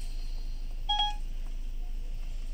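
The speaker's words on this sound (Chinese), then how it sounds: "正在给10086打电话。" A car infotainment system dials a phone number through a Wireless CarPlay/Android Auto retrofit box in a Mercedes-Benz, giving a short burst of clear dialing tones around the middle, alone over a steady low hum.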